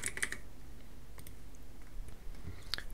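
Quiet, quick keystrokes on a computer keyboard, a handful of light clicks in an uneven burst, soft and close with no voices.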